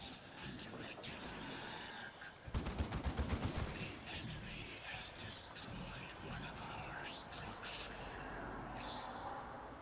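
A Devastator squad lays down heavy suppressing fire on Genestealers in Dawn of War 2 Retribution: a sharp, rapid burst of shots about a quarter of the way in, then ongoing rattling battle noise under a murmuring voice.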